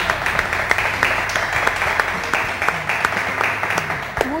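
An audience at a televised panel discussion claps for Jaime Pinzón, a steady patter of many hands with sharp individual claps standing out, sustained throughout at moderate volume.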